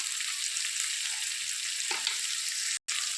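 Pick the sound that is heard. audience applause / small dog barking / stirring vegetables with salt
stirring vegetables with salt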